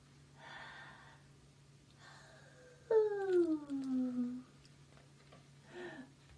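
A voice imitates a bunny yawning quietly, giving one soft, drawn-out falling yawn with faint breathy sounds before and after.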